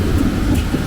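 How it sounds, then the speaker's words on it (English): Low, continuous rumble from a South African thunderstorm, a steady broad roar of thunder or heavy storm noise lasting under a second with no voices. "But these South African thunderstorms do not play."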